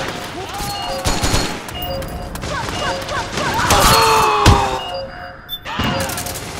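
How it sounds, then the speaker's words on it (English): Gunfire in the online shooter Metal Gear Online: rapid bursts of shots and sharp impacts crackle close and loud in overlapping volleys, with a few heavy thuds and a player's voice speaking over the fighting. "Oh, I'm firing bullets."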